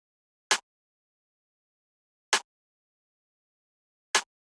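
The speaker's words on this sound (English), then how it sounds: "Obviously adding the clap, sounds like this." Three sharp electronic claps land at a slow, even interval in a sparse trap drum beat, crisp and isolated with silence between hits.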